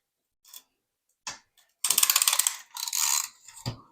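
A ratcheting piston ring compressor tightened over a piston on a Tillotson 225 engine build, heard close up as a few isolated clicks followed by bursts of rapid ratchet clicking, with no talk.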